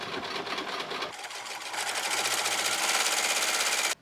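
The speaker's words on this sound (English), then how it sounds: "And now I'm going to go around and sew them together." A sewing machine fitted with a heavy-duty needle runs steadily, stitching quilted coat pieces together. Its rapid, even rattle pauses briefly, then picks up speed and stops abruptly.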